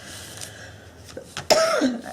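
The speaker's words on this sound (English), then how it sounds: "I don't know why I'm coughing" A single sharp cough bursts out up close after a few quiet breathy sounds, trailing off into a brief vocal rasp.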